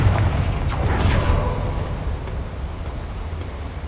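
Confringo fire spell in the video game Hogwarts Legacy sets off a deep booming explosion that hits at once, then rumbles and fades slowly without any talk.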